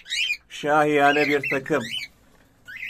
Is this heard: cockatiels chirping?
yes